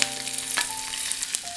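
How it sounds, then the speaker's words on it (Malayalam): Chopped onions frying in hot oil with mustard seeds for a Kerala-style breadfruit masala curry: a steady close sizzle broken by a couple of sharp pops, with no voices. "കടുക് പൊട്ടിക്കഴിയുമ്പോഴത്തേക്ക് ഉള്ളി അരിഞ്ഞത്"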